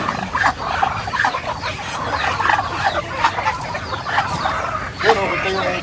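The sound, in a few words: chickens clucking, the owner's pet flock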